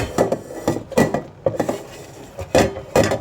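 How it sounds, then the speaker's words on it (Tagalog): Biko, sticky rice cake, is stirred in a pan: a spoon scrapes and knocks against the metal in uneven clanking strokes, close and fairly loud. "haluin na natin guys"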